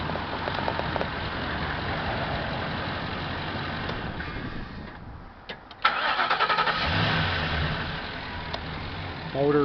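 A 2011 Ford Econoline E-350 high-top van engine cranks and starts partway through, then settles into a steady low idle, with some background noise before the start.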